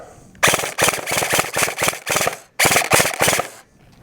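An airsoft AEG rifle fires tracer BBs in rapid full-auto bursts, with several loud, close, rattling strings of shots separated by short pauses.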